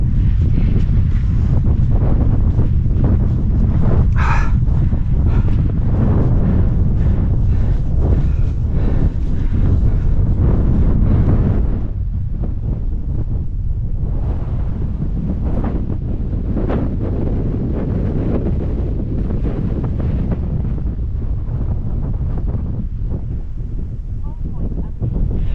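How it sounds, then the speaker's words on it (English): Loud, constant wind buffeting the microphone on a steep grassy hill in Shropshire, England, a heavy low roar that eases slightly partway through but keeps blowing. "It's probably too windy now."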